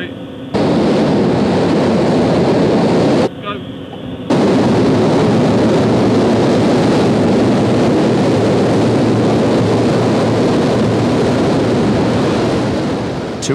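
The twin jet engines of the Thrust SSC supersonic car roar at full power, loud and close. The roar pauses briefly, then resumes as a sustained, dense rush of noise.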